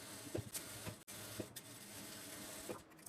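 A sewing machine runs a quarter-inch seam along the fabric of everyday pants. The motor whirs faintly and steadily, with a few soft clicks, and there is no talking.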